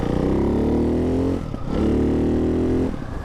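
A Ducati Hypermotard 698 Mono single-cylinder with a Termignoni exhaust revs hard twice, each loud, close blip climbing steeply in pitch before dropping off, with a brief gap between the two pulls.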